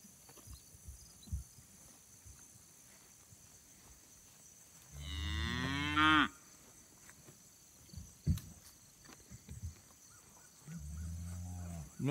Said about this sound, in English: Nothing like walking through the pasture field looking at the herd of cattle down the evening.